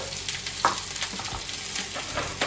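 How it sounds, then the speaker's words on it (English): Chilly chicken sautéing in a pan at home, a constant crackling sizzle with occasional clinks and scrapes of stirring, close and fairly loud, with no talking over it. "जब तक ये saute हो रहा है"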